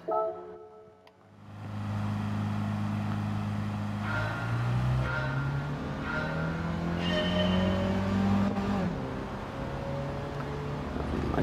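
A 1985 Autobianchi A112 Abarth drives in Gran Turismo 7, its small engine droning steadily and shifting pitch as it accelerates through corners, with a tire squeal or two partway through.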